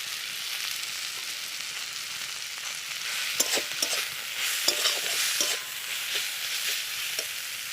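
Turmeric, coriander and cumin powder frying in oil in a pan, a steady soft sizzle joined midway by a run of sharp spatula scrapes and taps against the metal, no talking.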